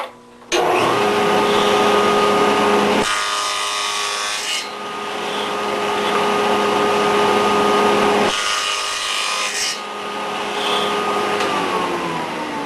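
A table saw rips wooden bars for beehive frames. Its blade whines steadily close up, with two louder rasping cuts through the wood, each lasting a few seconds.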